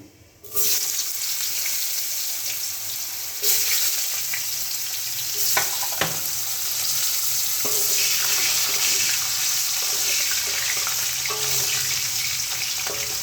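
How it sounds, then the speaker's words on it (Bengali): Potatoes fry steadily in a pan for a Bengali spinach ghonto, a dense continuous sizzle with a few clinks and stirring scrapes over it, close and fairly loud with no talking. "তো আমি ফার্স্টে আলুটাকে দেব, আলুটাকে ফ্রাই করব প্রথমে।"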